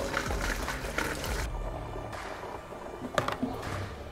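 Extract liquid for a pressure-fermented homebrew kit pours through a funnel into a fermenter, a continuous gurgling, splashing stream close by with a few louder glugs and drips toward the end, no talking.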